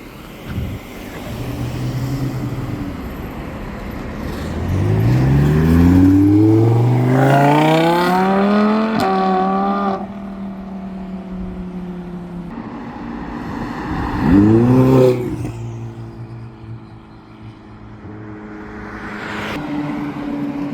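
A car accelerates and revs hard at a dealership showing exotic cars, loud and close, with the engine climbing steeply in pitch, dropping back, then rising in a second shorter rev.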